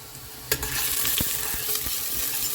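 Garlic and onion frying for dal, turning light pink, sizzle steadily in hot oil, with a few sharp stirring knocks against the pan and no talk.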